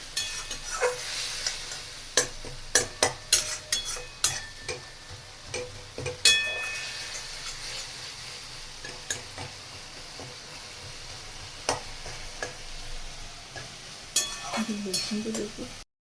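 Spices with cumin and turmeric being mixed in a pan: sharp, irregular scraping clicks of a spoon against the metal over a light background sizzle, with some quieter stretches between bursts of stirring.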